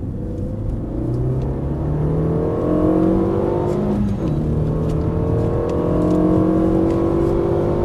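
A race car on the Dreux circuit heard from on board, its engine climbing through the revs in a loud, continuous rising drone with a brief dip and recovery midway, no talk over it.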